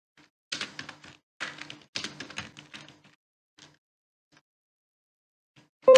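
A computer keyboard is typed on while entering text in an Excel spreadsheet, with quick bursts of close, crisp key clicks separated by pauses, then a single louder tap at the end.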